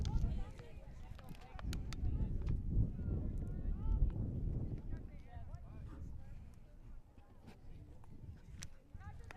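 Gusty wind buffets the microphone with a low, uneven rumble at an outdoor varsity girls' high school soccer match, steady throughout the clip.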